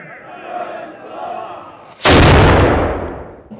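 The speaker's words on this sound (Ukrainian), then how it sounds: "Набивають порохом гармати, салютуватимуть." A murmuring crowd at a memorial ceremony is cut off by a sudden, massive ceremonial cannon salute blast that booms loudly and rolls away slowly into a long echo.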